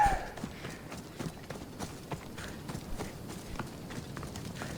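Horse hooves clip-clop in a steady, moderately paced rhythm in the Assassin's Creed Odyssey video game, clear and continuous over low background ambience, with no talking.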